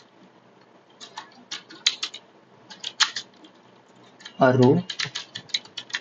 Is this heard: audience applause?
no